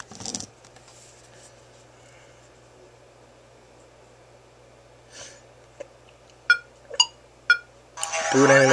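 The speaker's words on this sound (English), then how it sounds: "boot animation sound." A Samsung Epic 4G phone boots up over a faint steady hum: a few short soft beeps and clicks, then a loud bright electronic burst at the end.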